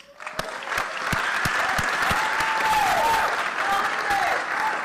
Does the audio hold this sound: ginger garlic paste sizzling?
no